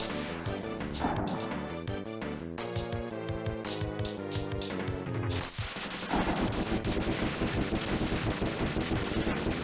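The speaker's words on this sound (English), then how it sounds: "if I just hold, it's shooting at the next available shot for both weapons" Rapid weapons fire from a 3D sci-fi SNES action game, a dense, continuous stream of chiptune-style shots over game music. The firing grows louder and busier partway through, with no talking.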